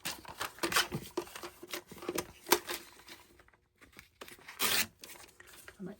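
Scissors trim around a handmade paper and fabric bookmark, giving a string of close, crisp snips and rustles broken by short pauses, with a brief quiet gap partway through.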